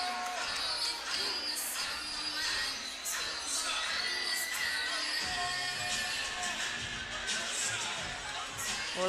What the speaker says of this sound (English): the crowd goes crazy for Orlando Sanders